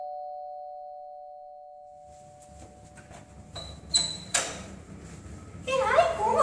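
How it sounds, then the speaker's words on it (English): A doorbell chimes at a house door, two bright rings a few seconds in, following a faint steady tone and soft indoor movement. "This bell always comes between us."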